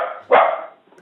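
A dog gives a single loud, sharp bark in a caller's home, close to the phone line, with a quieter whine before it.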